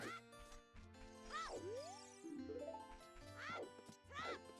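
A melody from the Ocarina of Time video game, a short tonal tune with sweeping bent notes over quiet steady sustained tones, moderately faint and alone.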